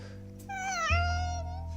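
A man imitates a cat by ventriloquism, giving one drawn-out, wavering meow that rises and then sags, close and clear over a quiet low hum.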